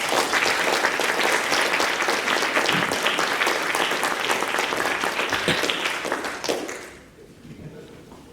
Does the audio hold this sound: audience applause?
yes